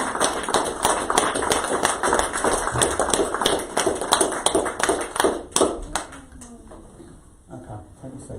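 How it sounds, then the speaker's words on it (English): A church congregation claps together in a dense, steady burst of applause that gradually thins out and fades toward the end, with a few scattered claps lingering. "Can we give a clap for these people?"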